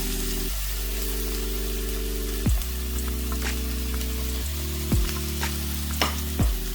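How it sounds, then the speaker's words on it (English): Half an onion and mushrooms sizzle in a frying pan, a steady close hiss broken by a few sharp stirring clicks, with a low steady hum underneath and no talking. "we're going to add the half onion to the pan. You hear it sizzling."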